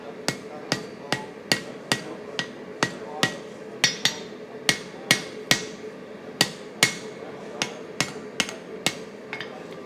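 Sharp hammer blows strike hot steel being forge-welded, in a steady rhythm of about two per second, ringing brightly on an anvil close by.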